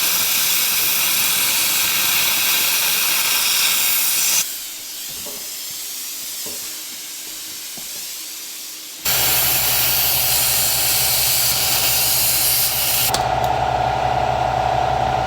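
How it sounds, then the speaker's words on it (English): A cutting tool takes off the steering shaft U-joint on a 2020 Honda Rancher ATV: a loud, continuous grinding hiss that pauses for a few seconds, then resumes with a deeper drone, close up. "I'll cut this off right here quick, and then I'll cut it off here."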